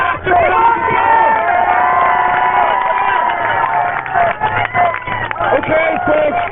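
A crowd at an indoor gathering cheering, shouting and whooping loudly and continuously, with voices rising and falling across the whole stretch and some clapping likely mixed in.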